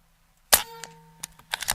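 A Seneca Eagle Claw .25 caliber air rifle fires one sharp, loud shot with a ringing metallic ping after it, followed by softer clanks and a quick cluster of further clicks.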